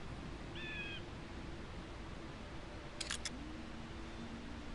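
Bird call in the video game Metal Gear Solid V, a brief two-note chirp over a quiet ambient hum, followed by a short clicking burst.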